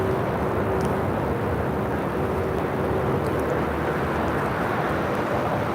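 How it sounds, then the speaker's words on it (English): An American Airlines Airbus A321 takes off at LAX bound for JFK, a steady, loud, broadband jet roar that holds without letup from start to finish. "This is American 184 taking off to JFK on an A321."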